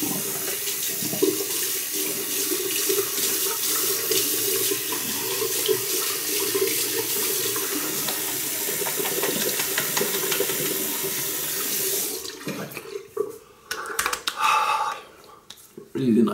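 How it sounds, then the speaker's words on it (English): Cold water runs from a tap during a wet shave routine, a steady hiss that stops abruptly near the end, leaving a few faint splashes and drips. "We'll freshen it up with some cold mountain water."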